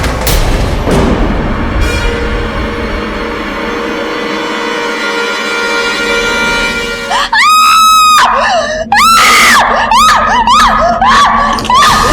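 A woman in a Hindi TV drama screams in loud, harsh, wavering bursts that come repeatedly after a stretch of tense, droning background sound.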